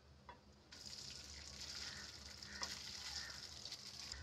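Cooked rice is tipped into a pan of fried spices for sesame rice. A brief clunk comes first, then a steady, moderately quiet hiss and sizzle with soft stirring continues to the end.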